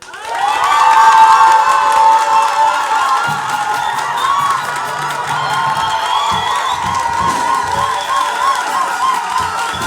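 A church congregation loudly acclaims the Lord, a sustained swell of cheering, shouting and whooping voices that rises quickly and holds strong throughout, with some clapping mixed into the crowd roar.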